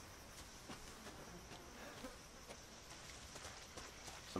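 Bees buzz in Resident Evil 7, a faint, steady insect drone with a thin swarming texture that continues without pause and with no voices.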